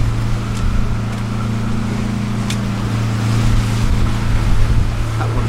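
Engine drone from fishing boats out at sea off a Swansea beach on a foggy day, a steady low hum held throughout with wind and surf noise around it, no talk.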